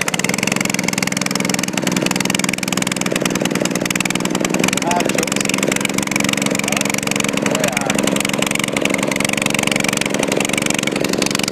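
A Honda engine runs steadily and loudly after a cold start, with a dense, continuous mechanical drone and rapid ticking throughout.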